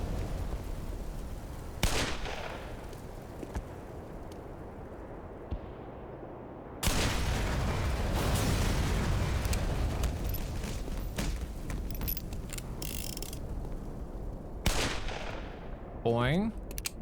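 Bursts of gunfire from an unusual weapon in the video game Black Mesa, with loud sharp shots clustered around heavy stretches of sustained firing and explosive rumble, plus a few isolated cracks near the end.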